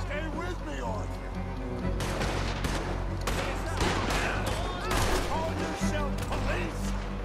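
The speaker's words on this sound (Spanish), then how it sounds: "Primer disparo con la pistola" Pistol shots ring out in a chaotic Red Dead Redemption 2 firefight during a boat robbery in Saint Denis, sharp cracks layered over dense gunfire, water sounds and game noise, with voices talking throughout.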